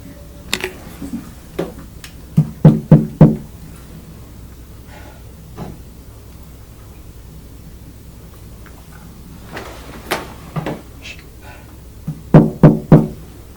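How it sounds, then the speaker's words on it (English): Knocking on a door during a ghost hunt in New Egypt, New Jersey, with clustered groups of three or four sharp, close raps separated by long quiet gaps and a few scattered single taps. "It sounded like it's something knocked back the first time."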